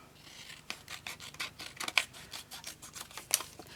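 Scissors snip repeatedly around a piece of card for a handmade 5x7 greeting card, a close, dry run of irregular cuts and rasping blade strokes with no talking.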